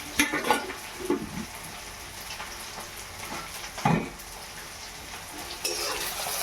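Sugar, red chili powder and turmeric fry in a pan with a soft, steady sizzle. Occasional scraping knocks of a spoon stir the mixture, and a louder clatter comes near the middle.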